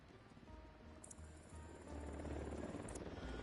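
A helicopter in the video game Ghost Recon Wildlands, a faint rotor hum that swells louder about halfway through, with a thin high whine on top.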